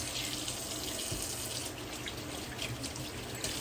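Tap water runs steadily and loudly from a kitchen faucet into a sink as something is washed while cooking beef stew, a continuous close hiss with no talk.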